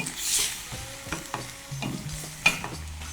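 Garlic, ginger and chili peppers are stirred in a pot for a chicken and mushroom stir fry, giving a close scraping and clinking of a utensil over a soft sizzle, with a few sharper knocks against the pot.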